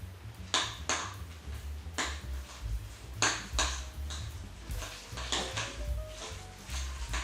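A spoon scraping and clinking in a bowl while salted cottage cheese filling is mixed with egg, repeated sharp taps at an uneven rhythm, close and moderately loud with no talking.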